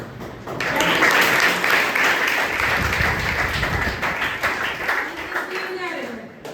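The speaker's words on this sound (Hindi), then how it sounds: "अभी जो ताली बजाए किस लिए बजाए बताओ?" Schoolchildren applaud at a government high school seminar, a loud, steady burst of clapping close by that holds for several seconds before thinning out.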